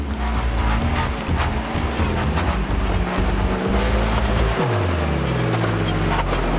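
A Rhino Charge off-road rally car, Car 43, drives hard over open ground with a loud continuous engine roar, rattling and bumping, and a rising-then-falling engine pitch change partway through.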